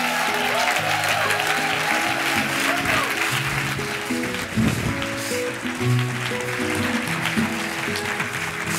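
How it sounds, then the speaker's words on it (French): Audience applause greets a comedian walking onto a stage at a live comedy show, continuous dense clapping mixed with cheering voices and some music-like tones, steady and loud throughout. "Alors, je vous demande d'accueillir sous un tonnerre d'applaudissements mon ami David Marouani!"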